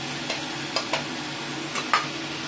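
Onion and garlic frying in a pan for spaghetti, with a constant soft sizzle broken by several quick scraping stirs of a utensil, close and fairly quiet.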